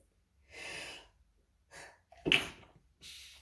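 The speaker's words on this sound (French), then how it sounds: "Je sens que j'ai besoin d'éternuer." A few breathy inhales build up to a single sharp sneeze, followed by a soft exhale. The setting is quiet and close.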